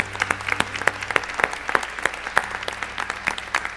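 A church congregation at a Brazilian service claps in a moderate crowd, the individual claps loud and close in a quick, slightly uneven rhythm over a low steady hum.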